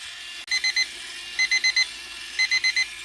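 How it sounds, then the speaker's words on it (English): A kitchen timer alarm beeps in three quick bursts of four shrill tones each, sounding over a quiet room hum with no speech. "Okay, my timer has went off."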